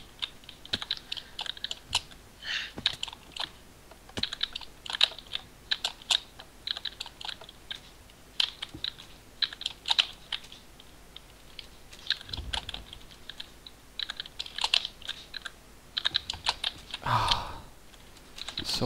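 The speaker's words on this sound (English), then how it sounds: "So many hitting of keys." Fingers with long nails type on a computer keyboard during Minecraft parkour play: quick, irregular bursts of close keystrokes with short pauses and a few heavier clacks, no voices.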